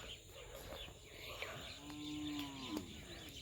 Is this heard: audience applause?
no